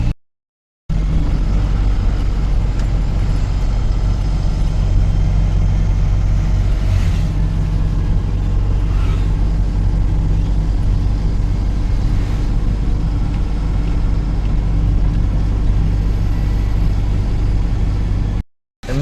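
Truck driving at night on the road from Kudal to Alibag through narrow lanes, its engine a steady low rumble throughout with continuous road noise and no talking.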